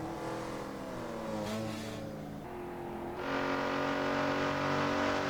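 Touring car legends from 1967, including a Mazda and a Mustang, race at Silverstone in Assetto Corsa, their engines droning and revving steadily with shifting pitch and swelling louder near the end.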